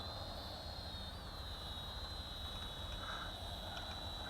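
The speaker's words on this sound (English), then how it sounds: "Okay, it's a nice steady quadcopter." Yifei Novacore M7 camera drone quadcopter hovering in flight, a faint, steady high-pitched motor whine with a constant tone and no voices.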